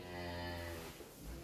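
Cattle mooing at a livestock supplier selling Limousin and other beef cattle for sacrifice, a single long, loud, drawn-out low moo that fades toward the end.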